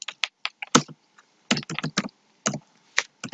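Bursts of key clicks from typing on a computer keyboard, several quick clusters of keystrokes separated by short pauses, close and distinct with no talking.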